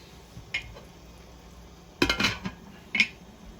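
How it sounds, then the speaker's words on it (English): Metal cookware clanks a few times: a light tap, then a louder clattering of a lid settling on a pot of boiling Jamaican-style chicken soup, and another clink, over quiet background. "now I'm going to place the lid and allow it to boil like 10 minutes"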